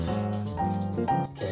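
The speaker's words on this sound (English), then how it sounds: "a little bit of water now, just rinsing around" Water poured into a container to rinse sprouting seeds, swirling and splashing steadily at close range, with a tonal, tap-like flow that shifts pitch as the container is spun, no talk over it.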